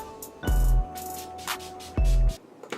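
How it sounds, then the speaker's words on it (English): Two short bursts from an Urban Decay All Nighter setting spray bottle sprayed on a face, each a quick hissing spritz with a low mechanical pump thud, separated by a pause; faint background tones. "now I'm just going to spray my face with some Urban Decay All Nighter spray"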